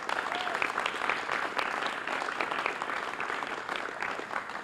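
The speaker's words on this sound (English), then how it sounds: "give a round of applause for all of our youth council members" A room full of people applauds youth council members at a Milwaukee signing event, steady dense clapping that holds at a constant loud level for the whole stretch, with no voices standing out.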